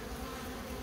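Honeybees crowd the entrance of a young hive split during the linden bloom, giving a faint, continuous low buzzing hum that holds steady without any other sound.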